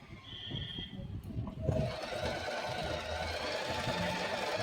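Usha Janome Wonder Stitch Plus sewing machine starting to stitch, its motor whirring up into a steady continuous buzz after a short quiet stretch of handling sounds.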